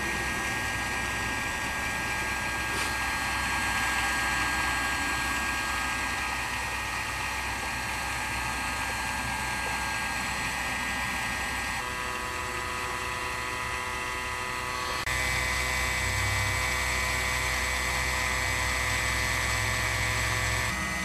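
Homemade Lindemann rotary attraction motor running on a small homemade power supply, a continuous high-pitched electric whine and buzz with steady tonal hums that shift pitch partway through, running alone without talk.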